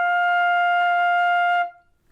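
A flute sounds a single sustained F, steady and clear for about a second and a half before stopping cleanly, played alone and close.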